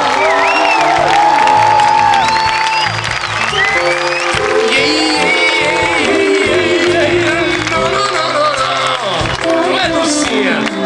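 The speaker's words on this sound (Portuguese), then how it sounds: "eu gostaria de pedir uma salva de palmas para eles, por favor" Loud crowd applause and cheering for a band at a concert, with whoops and shouts over sustained clapping while music tones linger underneath.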